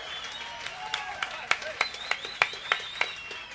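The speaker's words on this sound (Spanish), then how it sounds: "Alberto, un aplauso para Alberto, loco, que se animó" Applause from a small audience for a volunteer at a live show, a scattering of sharp individual claps at an uneven rhythm, close and fairly sparse.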